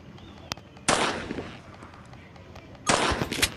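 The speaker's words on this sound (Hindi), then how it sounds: "देखो अभी बस मुझे शूट करना सही से" Gunfire in the Granny Chapter 2 video game: a short sharp shot followed by two louder bursts of crackling shots, about two seconds apart, against quiet background.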